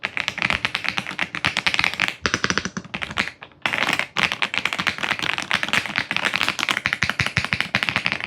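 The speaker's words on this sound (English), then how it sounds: "the sound in this keyboard, oof, it's so soft clicky" Typing on an Aula F75 MAX gasket-mounted mechanical keyboard, with dense, quick, soft clicky keystrokes in a steady stream broken by one brief pause, close and clear.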